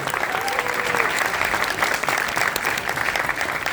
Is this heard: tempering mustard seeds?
no